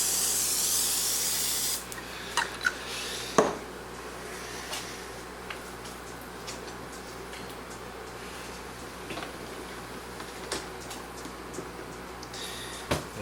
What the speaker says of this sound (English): I do want to spray a little more on that pan.